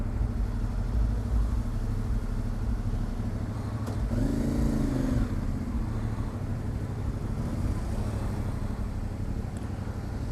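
Motorcycle engine running steadily through city traffic, day or night, a constant rumble with a brief swell of revving midway, no talk.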